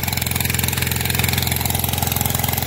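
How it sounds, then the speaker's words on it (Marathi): A diesel engine pump set up at a village well beside rice paddy fields, running with a steady, even chugging throb close by, with no voices. "आता विहिरीक इंजन लावलेला आहे."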